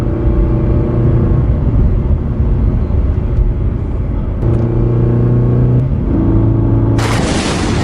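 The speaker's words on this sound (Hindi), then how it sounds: "तभी एक व्यापारी अपनी गाड़ी से गांव में आ जाता है।" A trader's car arrives in a village with a heavy, close engine rumble that drones steadily throughout, with tone shifts partway and a sharp hiss near the end.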